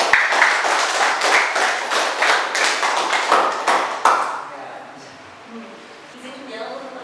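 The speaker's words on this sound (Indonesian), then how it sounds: "Aplaus." Scattered hand clapping from a small audience at a school presentation on an anti-bullying campaign, quick uneven claps for about four seconds that fade out, followed by quieter room sound.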